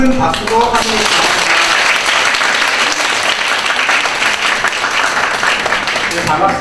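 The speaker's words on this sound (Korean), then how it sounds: "큰 박수로 환영합니다." An audience at a Kyung Hee University admissions briefing gives a loud, sustained round of applause to welcome a speaker. The clapping stays dense and even throughout, and a voice can be heard talking briefly at the start and again at the end.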